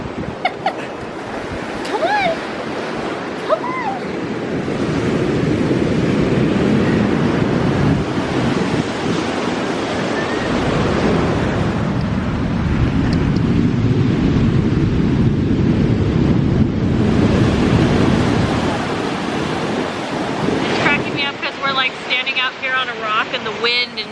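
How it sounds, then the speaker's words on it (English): Wind buffets the microphone over steady surf on a beach, broad waves rolling and washing in continuously and loudly, with brief bird-like chirps near the start and end and a voice speaking now and then. "And the wind and the waves"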